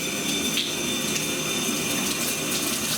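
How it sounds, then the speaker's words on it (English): A spray bottle part is rinsed under running water, a steady close splashing hiss that continues unbroken. "I'm going to rinse off this part."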